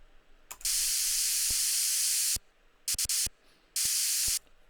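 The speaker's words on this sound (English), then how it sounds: "Absolutely beautiful white noise. This is such a big energy booster." A white noise riser in a big room techno track made in FL Studio: bright, hissing bursts switch on and off abruptly, two long sustained blasts framing a few short stuttered chops, with silent gaps between.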